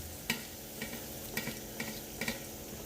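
Mustard seeds tossed into hot oil after cumin for a homestyle cowpea (chavli) usal, giving a steady low sizzle with about five sharp crackling pops spaced through the short stretch, no voices.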